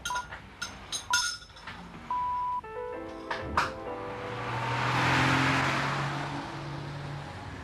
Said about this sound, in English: Just after 8:30, Susie set off for work in her company car